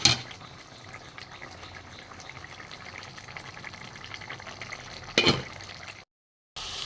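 A ridge gourd, potato and poppy seed curry simmers in a pan, giving a soft continuous bubbling hiss at low level, broken by a louder brief clatter near the end before a short silence.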